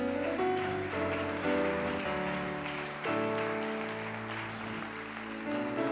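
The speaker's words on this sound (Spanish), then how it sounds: "Denle un fuerte aplauso al Señor." A church congregation applauds during a worship service, a steady wash of clapping blended with sustained keyboard or organ music that plays throughout.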